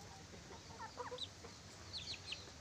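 Hens and young pullets on a small backyard poultry farm cluck softly in short, scattered bursts against a steady low background hiss, with no voices.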